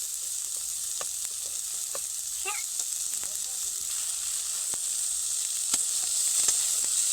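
Paneer stirred and frying in a pan, a soft steady sizzle with scattered light scrapes and taps of a spatula, fairly quiet and close.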